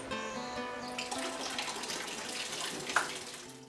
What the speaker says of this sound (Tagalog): Tanghali na nagkaroon ng tubig sina Leonora.